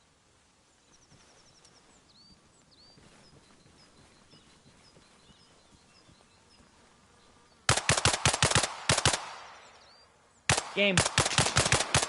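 Automatic rifle fire in the military shooter Arma Reforger, two loud close bursts of rapid shots after a quiet stretch of insect and bird ambience, with a brief gap between them and a voice speaking briefly.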